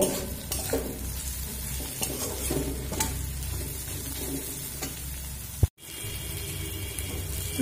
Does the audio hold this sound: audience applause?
no